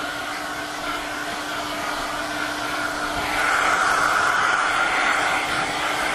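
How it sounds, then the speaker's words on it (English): A handheld blow dryer drying hair makes a steady, close whooshing roar with a constant motor whine, growing slightly louder partway through as the airflow shifts, with no talk. "I got this blow dryer moving all the time"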